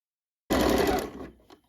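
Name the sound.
sewing machine stitching a seam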